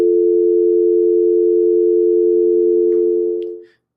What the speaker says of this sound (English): He could hang up the phone.